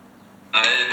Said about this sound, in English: If you heard that, that was my phone.